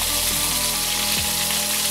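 An egg frying in a pan gives a loud, continuous sizzle with crackling spatter, steady throughout and close up.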